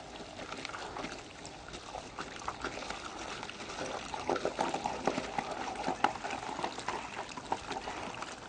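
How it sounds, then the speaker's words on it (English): A water wand sprays a steady, rushing stream while a water slide stub is installed, a continuous broadband hiss and splash that stays fairly close and even for the whole stretch. "let's start using that water wand"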